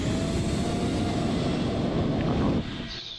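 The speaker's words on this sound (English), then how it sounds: "It's really loud outside because of this plane out here and a speedbird parked right next to me." Loud, steady roar of a nearby aircraft outside at an airport stand beside a parked British Airways plane, broadband engine noise holding constant before dropping in level near the end; no talking.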